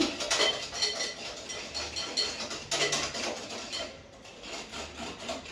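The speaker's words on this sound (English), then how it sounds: "You have to beat the mixture until the sugar dissolves and it's fluffy." Carrot cake mixture is beaten with sugar by hand in a bowl. A continuous scraping, rubbing utensil sound against the bowl is heard close up, in steady uneven strokes with no talking.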